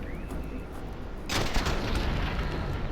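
Gunfire in the sci-fi game Starfield during a firefight with a turret, a low rumbling backdrop that breaks into a loud burst of shots partway through, sustained and fairly close.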